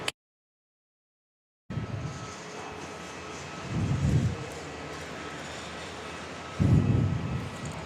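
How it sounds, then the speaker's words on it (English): Virgin Australia Boeing 737 departing Perth airport, a steady distant engine rumble following a brief silence, with two louder low surges as the jet rolls out. "You're just in time to see this Virgin 737 head off out the door today for us."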